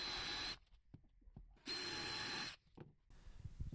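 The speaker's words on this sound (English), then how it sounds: "So I drilled some holes with a countersink bit." A power drill with a countersink bit bores holes into solid wood desk legs in two loud, steady bursts, with quieter handling clatter and pauses between them.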